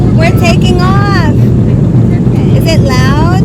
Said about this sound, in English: We're taking off.